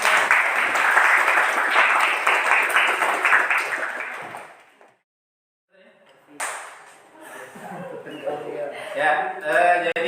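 A classroom audience applauds with dense, lively clapping for several seconds, which fades into a brief silence before scattered clapping and voices pick up again.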